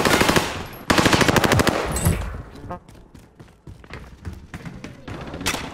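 Rapid automatic gunfire bursts in a shooter video game, loud and close, followed by scattered single shots and thuds.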